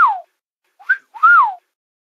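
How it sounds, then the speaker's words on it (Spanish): Whistling sound effects from a Loquendo text-to-speech program: a falling whistle, then after a pause a short chirp and a longer rising-and-falling whistle, clean and close against silence. "Dos sonidos de silbar."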